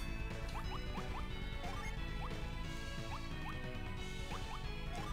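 Sparkling, chiming item effect for the Water of Life in Golden Sun: Dark Dawn, with quick rising twinkles repeating over steady, dense game music throughout.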